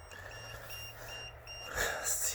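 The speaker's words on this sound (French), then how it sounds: "Arrête de faire biper la machine" Short repeated electronic beeps in a steady pattern, fairly quiet, with a louder burst of noise near the end.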